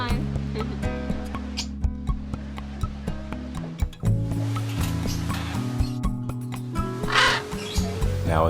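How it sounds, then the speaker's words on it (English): Birds call noisily while people try to feed them, a mix of harsh crow-like caws and squawks at close range over a background wash, with voices talking throughout. "Here are a few first-person shots of us trying to feed these birds."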